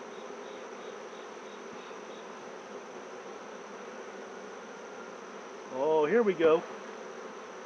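Honeybees drone in a steady low buzz throughout a hive inspection, with a brief louder swell of wingbeats near the end and a short spoken remark.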